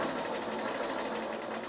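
A sewing machine runs steadily while stitching a quilt for a child's bedding set, giving an even, close, continuous whirring hum with no pauses and no voices.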